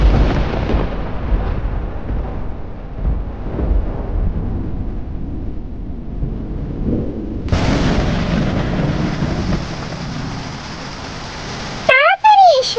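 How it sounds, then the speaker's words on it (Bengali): Cartoon storm: heavy rumbling thunder-like crashes give way to a steady, hissing downpour of rain, with a short whooshing effect at the end and voices speaking over parts of it. "তাড়াতাড়ি এসো, বৃষ্টি শুরু হয়ে গেছে।"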